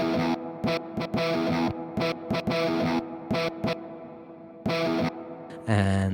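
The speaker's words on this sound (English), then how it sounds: "First of all, I want to use the reverb." Drum-machine style loop from a Roland SP-404 MK2 sampler playing with a reverb effect applied, steady repeating pulses with a lingering wash between hits, loud and alone, ending on a brief brighter burst.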